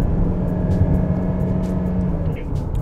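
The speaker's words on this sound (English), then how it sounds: "when you rev it, it doesn't even feel like, it doesn't even sound like a diesel car" Steady, fairly loud engine drone from a 2019 Mazda CX-8 diesel, heard from inside the cabin as it is revved, a smooth low hum holding for nearly three seconds.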